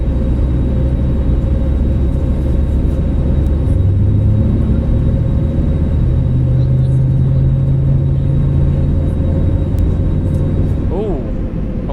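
A twin-engine airliner's right-hand engine spools up in Microsoft Flight Simulator, a loud steady rumble and drone with rising tonal hum that runs continuously, with a brief squeal near the end.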